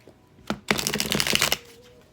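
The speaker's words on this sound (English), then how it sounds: "they want a fresh shuffle with no new cards out yet" A deck of tarot cards being shuffled by hand, two quick riffling bursts of papery flutter and clicks close to the ear, the second longer, followed by a faint tone as the sound fades.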